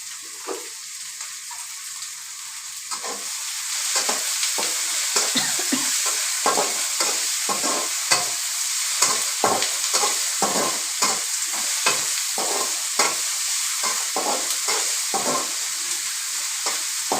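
Curry leaves and salt fry in a hot pan with an even sizzle, close by. Repeated scraping strokes of stirring cut through the frying at a steady rhythm throughout.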